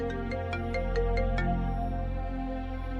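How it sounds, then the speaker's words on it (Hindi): A mobile phone ringtone for an incoming call, loud and close, plays a quick run of bright repeated beeps over a sustained electronic tone with no voices. "लो, वकील का फोन आ गया।"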